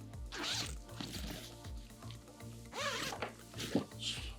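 An Acer Predator travel suitcase is unzipped and opened close by, with a few quick zipper pulls, a thump and rustling handling sounds, and no speech.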